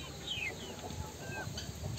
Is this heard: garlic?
no